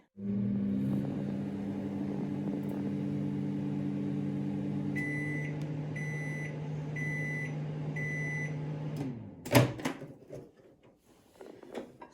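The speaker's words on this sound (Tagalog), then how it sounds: "Yung gelatin, guys, 20 seconds na nalagay natin sa ating microwave oven." A microwave oven hums steadily while heating gelatin, with a low drone for about nine seconds, several short beeps near the end, then the door clunking open and some handling noise.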